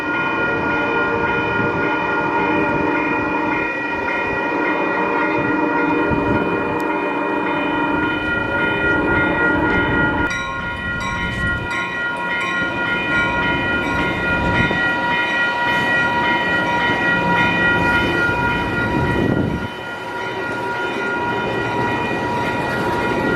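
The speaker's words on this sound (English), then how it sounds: "I think the train is actually coming in right here." A train rolls past in San Clemente, loud and close, with a sustained multi-tone horn blaring over the steady rumble and clatter of the railcars throughout.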